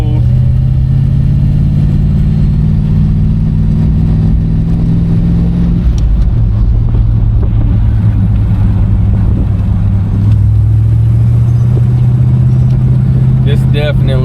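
A 1966 Chevrolet Impala SS engine hums steadily at close range, shifting pitch midway as the driver changes gear, with the drone continuing throughout.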